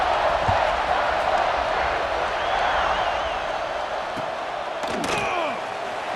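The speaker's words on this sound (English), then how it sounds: "this crowd is buzzing after that last score" A stadium crowd in the College Football 26 video game keeps up a loud, dense, continuous roar, with a sharp knock near the end.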